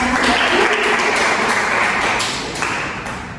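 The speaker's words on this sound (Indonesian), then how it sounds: "Tepuk tangan dulu untuk kita semua." Classroom students clap their hands together in a burst of applause that fades toward the end, with a few sharper taps standing out.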